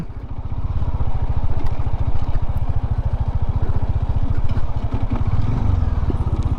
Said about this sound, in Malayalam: ഇവന്മാർ മെറ്റൽ കൊണ്ടടിച്ച് മെറ്റൽ കൊണ്ടടിച്ചത് കൊണ്ട് എനിക്ക് ബൈക്ക് അങ്ങോട്ട് ബാലൻസ് ചെയ്യാൻ പറ്റുന്നില്ല